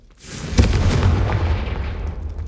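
A Confringo fire spell blast in Hogwarts Legacy: one sudden booming explosion that bursts in close and loud, then rolls on as a sustained rumbling roar slowly fading, with no talking.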